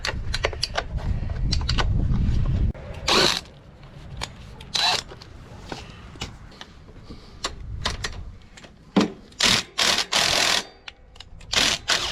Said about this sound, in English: we'll have to loosen up some bolts here